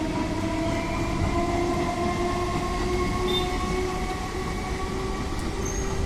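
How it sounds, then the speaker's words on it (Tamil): An electric commuter train rumbles steadily past at close range near Perambur station in Chennai, a continuous heavy roar with faint tonal hum and occasional high wheel squeal. "இது எலக்ட்ரிக் ட்ரெயின் திருவள்ளூர் வரைக்கும் போகும்"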